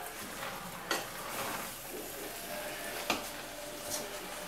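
Ground meat for chili con carne sizzles steadily in a frying pan as a spoon stirs it, with a few sharp scrapes and knocks against the pan, close and alone without talk.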